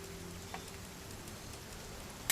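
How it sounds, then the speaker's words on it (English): Steady rain falls in a soft, even hiss with faint scattered drip ticks, ending in a brief louder burst of noise, from the video game What Remains of Edith Finch. "It's gonna rain the whole weekend, isn't it?"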